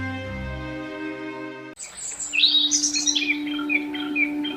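Birds chirp and tweet in a repeated, fairly loud run in a jungle, set in a cartoon village story, following a sudden cut from a steady droning tone.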